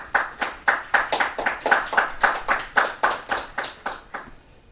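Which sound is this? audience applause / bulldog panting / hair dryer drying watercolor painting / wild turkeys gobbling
audience applause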